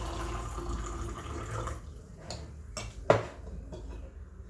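Cold-brewed white tea poured from a plunger brewer into cups, a close liquid trickle with light clinks of glass and ceramic, then a few sharper knocks near the end.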